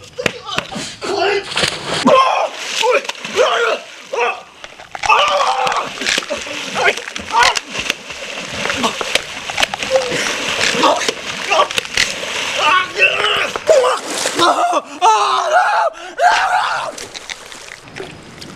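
Water splashes repeatedly as someone swims in a comedic student spy film, with irregular slaps and sloshes close by and voices talking over them throughout.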